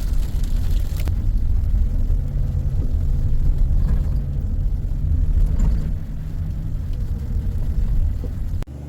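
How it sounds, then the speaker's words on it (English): A 2020 Chevy Express 3500 LS van with a replaced 6.0L engine on a test drive, heard as a steady low engine and road rumble from inside that holds unbroken for about nine seconds, with no voices. "Okay, so the vehicle test driving perfectly, no issues."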